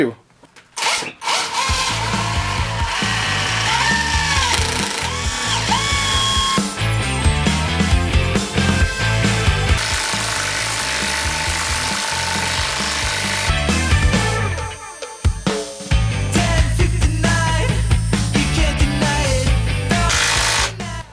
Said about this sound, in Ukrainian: І тепер давайте попробуємо, чи зможе найбільше закрутити цей глухар 310 мм.